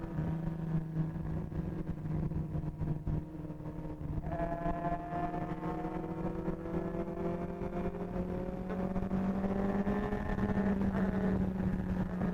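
A superbike with an aftermarket Strauss exhaust rides along with a continuous droning engine note that rises in pitch and stays moderately loud throughout, with no voices.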